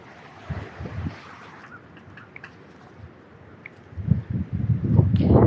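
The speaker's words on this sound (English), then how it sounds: "it's so windy, I can hear the trees creaking" Gusts of strong wind rush and roar through trees in bursts, quieter at first and then building into a louder, sustained blast.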